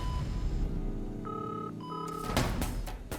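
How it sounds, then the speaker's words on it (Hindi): A telephone rings on the line after a call is dialed, with a short dial tone first and then a steady electronic ring pattern. The sound is moderately loud and there is no talking. "हाँ, मैं अभी देवी वन्ना भाभी को फोन लगाता हूँ।"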